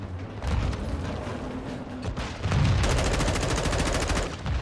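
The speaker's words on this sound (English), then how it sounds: "I'm gonna launch grenades." Grenade launcher and automatic gunfire from the Modern Warfare 2 campaign, a steady barrage of loud shots and blasts with a heavier burst near the middle, close and continuous.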